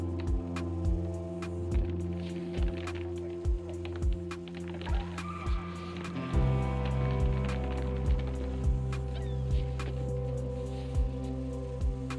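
A large truck-mounted concrete pump runs steadily while pouring concrete into holes for timber house piles in New Zealand, giving a loud, continuous engine hum with a rhythmic throbbing pulse roughly every half second that deepens and grows louder partway through.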